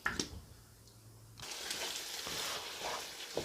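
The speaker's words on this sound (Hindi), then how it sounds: "3 से 4 मिनट के लिए मैं इनको मीडियम आंच पर भूनूंगा" Potatoes frying over a medium flame for aloo gobi: a brief quiet start with a couple of clicks, then a soft, steady sizzle that swells and holds close by, with faint scraping near the end.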